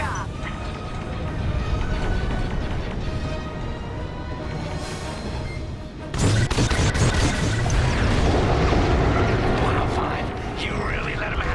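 A comms dish blows up in the Star Wars Squadrons space-combat game, a loud booming crash breaking in over steady engine roar and game music, with radio voices talking around it.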